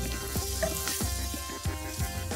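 Turmeric and red chili powder fry over a lowered flame with a soft, steady sizzle, the spoon scraping the pan in a few regular strokes, with no voices.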